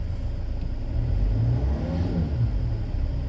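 Engine of a 2008 Land Rover Freelander 2 idling steadily at about 800 RPM after a throttle body install, a continuous low rumble heard close and fairly loud with no talking.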